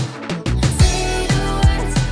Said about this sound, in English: The final will be having a crash hit to conclude the pattern.